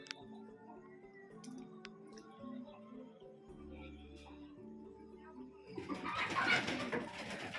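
Dove cooing indoors in soft low repeated calls, quiet and close, followed by a louder rustling burst near the end.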